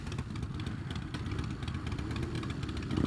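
A British motorcycle lane splitting on the highway, steady engine drone with road and wind rumble throughout, close and continuous.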